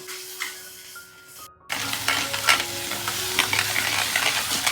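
Wild mushroom masala with tomato-cashew paste cooks in a pan, sizzling and bubbling after a brief quieter start, with stirring scrapes and a steady frying hiss close by.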